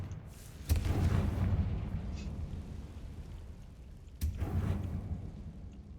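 A Confringo explosive spell cast in a video game, bursting twice with loud booming blasts about three and a half seconds apart, each trailing off into a rumbling decay.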